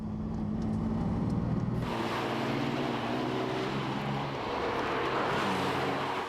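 A 1999 Lamborghini Diablo GT with its mid-mounted V12 runs, a low engine drone joined by a sudden broad, rushing swell as it passes or revs, then settling into a steady roar at moderate distance with no voices.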